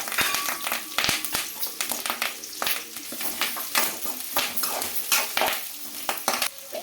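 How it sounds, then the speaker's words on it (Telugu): Onions sizzle steadily in oil while a spatula scrapes and stirs around a metal wok, with frequent sharp clinks and scrapes throughout. "ఆనియన్స్ అయితే బాగా ఫ్రై కావాలండి"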